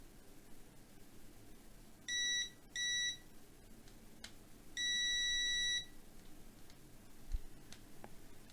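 A multimeter on continuity test gives short electronic beeps: two brief tones, then a longer sustained one, clear and fairly quiet against a near-silent background with faint clicks.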